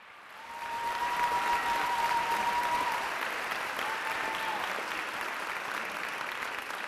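Audience applause fills a school district teacher-of-the-year honors ceremony, a steady sustained clapping from a large crowd that swells quickly and holds without letting up.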